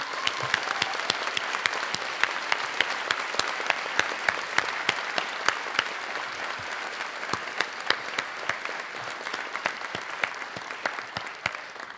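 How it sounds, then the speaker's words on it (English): Graduates at a spring honors college medallion ceremony applaud their families and friends, a sustained, dense round of clapping from a large audience with sharp individual claps standing out throughout. "please give a round of applause to their families and friends"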